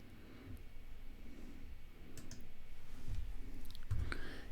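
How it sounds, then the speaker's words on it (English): Computer mouse double-clicking in a quiet room, a few faint, crisp paired clicks over a low background hum. "I want to double click to edit"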